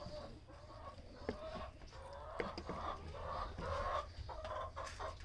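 Chickens clucking steadily inside a farm coop, several birds making soft overlapping clucks close by at low volume with no one speaking.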